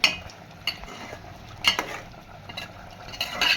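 A spoon stirs ginger paste into a pan of chicken curry, giving soft scraping and clinking strokes in irregular bursts with a faint sizzle underneath, close and fairly quiet.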